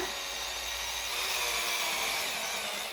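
A cordless screwdriver drives screws in a steady, moderately faint high-pitched whir that holds for about three seconds without pause.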